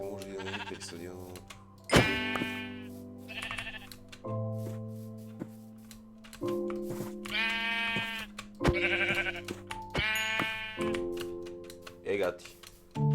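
Sheep bleating in the Minecraft video game, several distinct bleats spread across the clip with short gaps, fairly close and clear, with game background sounds underneath.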